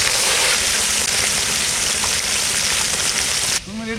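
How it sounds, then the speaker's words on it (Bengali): Pieces of catla fish coated in salt and turmeric fry in very hot oil, giving a loud, continuous close-up sizzle that cuts off sharply just before the end. "তেল একদম গরম, আর লবণ হলুদ মাছে মাখিয়ে নিয়েছি, এখন ভাজবো।"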